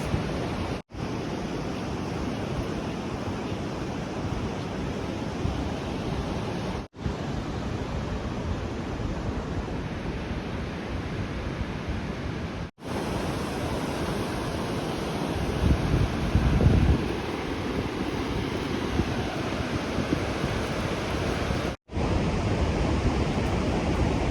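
Ocean surf and wind sweep across an empty Oregon Coast beach in a dense, steady wash of noise, broken only by brief dropouts and a louder surge near the middle.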